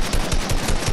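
Rapid, dense gunfire from the Fortnite video game, a pump shotgun amid a continuous burst of loud, closely spaced shots with no pauses.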